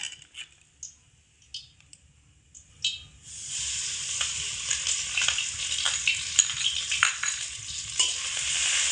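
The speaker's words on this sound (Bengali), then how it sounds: "হালকা একটু নাড়াচাড়া করে নেব ঘিয়ের সাথে।" Ground coconut is stirred into melted ghee in a pan: a few soft scrapes and clicks at first, then a steady loud sizzle of frying with spoon scrapes running through it.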